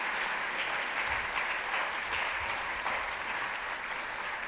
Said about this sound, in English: It would be very nice to have a big applause for you